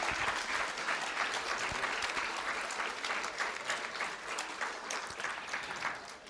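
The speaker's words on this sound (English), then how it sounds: "Let's give these 2 gentlemen a huge round of applause." Steady, sustained applause from an audience at a school district board of trustees meeting, a dense wash of many hands clapping at moderate distance with no talk over it.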